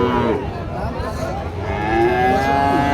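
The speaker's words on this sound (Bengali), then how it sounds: "গির জাতের গরু" A Gir breed cow at a cattle market gives a loud, close, sustained moo that fills the short moment, with faint crowd murmur underneath.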